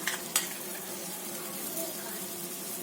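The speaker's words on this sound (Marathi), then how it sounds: "आता आपण टोस्ट करण्यासाठी पॅनमध्ये ठेवूयात" A buttered Schezwan sandwich sits in a hot pan on medium heat, giving a soft, steady sizzle close up, with a couple of brief scraping clicks near the start.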